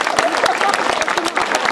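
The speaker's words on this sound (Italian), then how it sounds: "Applausi." A crowd applauding at a commemorative folk gathering, with brisk, close clapping from many hands and voices murmuring underneath.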